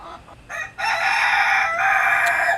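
A rooster crows loudly and close by, a long sustained strained call rising after a couple of short clucking bursts, with no other voices.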